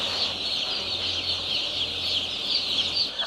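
Broiler chickens on a poultry farm in Togo, kept in closed buildings, clucking as a dense, continuous flock chorus with a steady low hum underneath.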